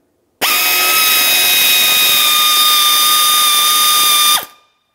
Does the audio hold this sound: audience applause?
no